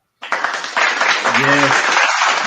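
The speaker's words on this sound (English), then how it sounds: "let me get a round of applause for my guy" A live podcast audience gives a round of applause, a sudden burst of clapping and cheering that builds and stays loud, with voices shouting briefly over it.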